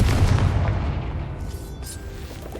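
Confringo explosion spell in the Hogwarts Legacy video game, a heavy booming blast that rumbles and slowly fades over a couple of seconds, loud and close with no talk.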